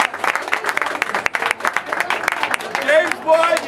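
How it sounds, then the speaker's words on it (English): Crowd applause for a runner-up at a prize announcement, a dense burst of close clapping with a whoop, while voices talk and cheer on top toward the end. "Give him a round of applause"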